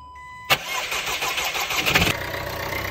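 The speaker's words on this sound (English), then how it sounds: "The car should start if there's no air in the fuel system." A Mercedes W176 A-Class engine, just after a fuel filter replacement, cranks with a sharp start, catches and runs with a slight rev, then settles into a steady mid-pitched idle, close and loud.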